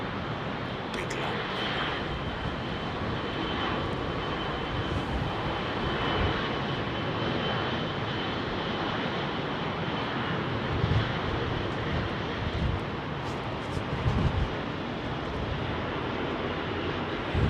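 Jet airliners roar on takeoff at London Heathrow Airport on a windy day: a loud, steady broadband engine rumble fills the whole stretch, with gusty low buffeting and a faint voice in places.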